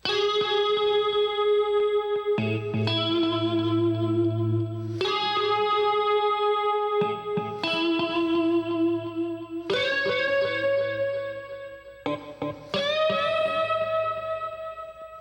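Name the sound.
electric guitar lead with unison bends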